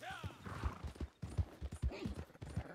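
A horse's hooves clip-clop in a video game, a quick irregular run of hard knocks close by, with a whinny-like tonal sweep early on and louder, busier footfalls over the last half.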